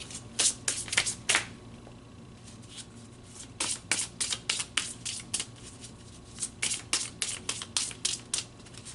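Tarot-style oracle cards shuffled by hand in quick bursts of riffling flutters, close and clear, with brief pauses between rounds and no talking.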